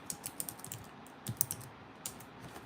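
Quick, light keystrokes on a computer keyboard, a short irregular burst of soft clicks typing a search term, close and quiet with no talking.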